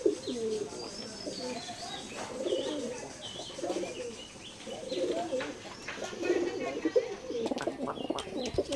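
Oman blood line teddy pigeons coo in repeated low, throaty phrases close by, with occasional higher chirps from other birds and faint background noise.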